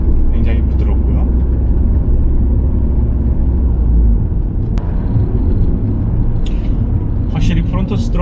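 A car climbs an uphill road and accelerates smoothly after its MAP sensor and AFS were cleaned, giving a loud, close low rumble of engine and road noise with a brief dip midway.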